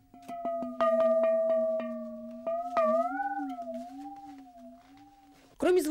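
A Soviet cast-metal washbasin with water inside is played as an instrument, giving sustained metallic tones that bend and waver in pitch, with several struck accents, close and fairly loud, ending in a sharp burst.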